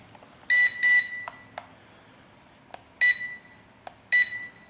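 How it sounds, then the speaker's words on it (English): A Sky Tech M63 mini quadcopter remote beeps as its button is pressed, giving short electronic beeps in uneven pairs and singles alongside faint plastic clicks, close and clear with no talking. "Not sure what that button does, but it does press and it does beep."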